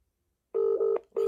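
Ringback tone of an outgoing telephone call that is ringing but not connecting: a steady electronic tone sounding in two long bursts separated by a short gap, loud and alone.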